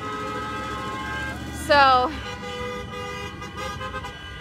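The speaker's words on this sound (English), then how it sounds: "again, lots of honking horns" Car horns honk at a street protest in west Toledo, one loud, close blast standing out for about half a second over steady traffic noise and a brief spoken word.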